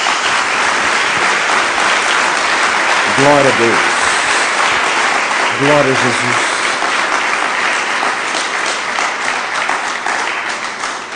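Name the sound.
congregation applause for Jesus in church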